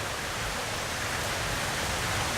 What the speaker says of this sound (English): it just started raining quite a lot. It's raining out here.